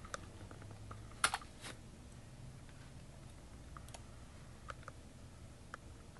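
Key presses on a Sharkoon Skiller gaming keyboard: sparse, quiet clicks scattered through the stretch, with a sharper cluster of a few louder taps near the start, over low background hum and no talk.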